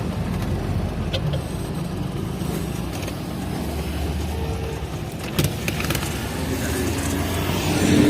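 A car's steady engine and road rumble fill the cabin throughout, loud and continuous, with a few faint clicks and a slight swell toward the end.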